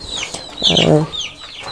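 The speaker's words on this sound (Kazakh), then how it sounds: "Оның әтеші ана жерде." A rooster in a new chicken coop gives a short, close throaty cluck over quiet background rustling and faint chirps.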